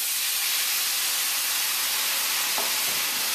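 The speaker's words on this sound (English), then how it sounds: "let it simmer in its own juices for another couple minutes" Jamaican peppered shrimp simmer in their own juices with lemon juice in a pan, giving off a continuous soft hiss and gentle sizzle that holds steady at close range, with no talking.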